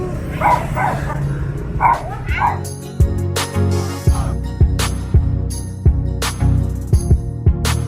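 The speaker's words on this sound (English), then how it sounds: "So this dog is so noisy." A dog at a roadside spot in Vietnam gives a few yips near the start, followed by a run of regular sharp clicks or taps and a low background drone, with faint talk in the mix.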